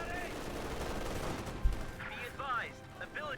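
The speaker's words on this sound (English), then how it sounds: "Grenadiers open fire up the Rangers" Gunfire as Grenadiers fire on Rangers in the video game Company of Heroes 2, a dense crackle of rifle and machine-gun shots with one heavier thump, while a voice talks over the latter half.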